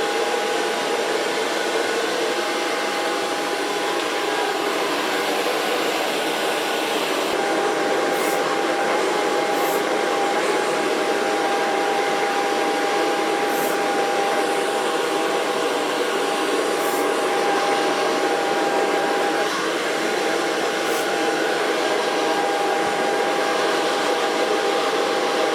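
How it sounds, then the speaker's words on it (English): A hair dryer blows steadily and loudly at close range for the whole stretch while it dries hair in a salon, with a constant whooshing roar and no speech. "So far blow drying."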